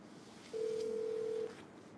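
A telephone gives a single steady electronic tone lasting about a second, close and clear over a quiet background hum, with no talking.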